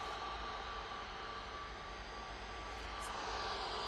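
An Emirates Airbus A380 arriving at Manchester Airport produces a faint, steady engine rumble and hiss that holds evenly throughout, distant with a low drone and no voices.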